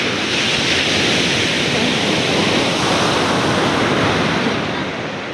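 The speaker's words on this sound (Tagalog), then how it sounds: "Hindi pwedeng paliguan, lakas ng alon." Strong ocean surf pounds and roars without a break, a loud, dense wash of crashing waves close by on a beach, too rough for children to bathe, with no voices over it.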